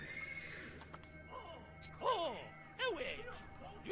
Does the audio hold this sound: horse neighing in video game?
yes